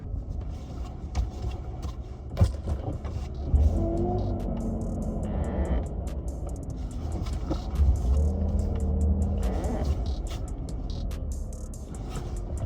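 A high-mileage BMW E36 on a test drive on Florida roads: a steady engine and road rumble runs throughout, with mild swells in engine note as it accelerates and a few faint knocks, no talking.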